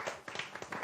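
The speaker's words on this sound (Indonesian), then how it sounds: "Oke, tepuk tangan." A few scattered hand claps at the close of an Indonesian sports talk show with athletes, sparse and fairly faint, spaced irregularly over a brief moment with no voices.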